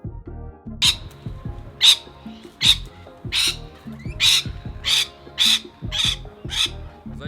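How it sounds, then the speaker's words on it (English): Parrots in a quiet residential suburb of Clayton, Australia give about ten harsh, squawking calls at fairly regular intervals, loud and close, over low background noise. "you just get outside and see parrots flying around your backyard"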